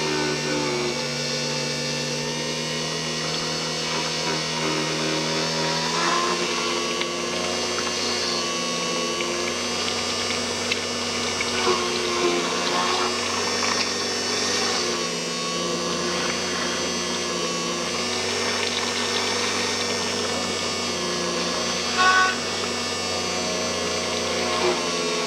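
A mixer blends a batch of nail polish, giving a steady, loud whirring drone that holds for the whole stretch with small shifts in pitch and no talking.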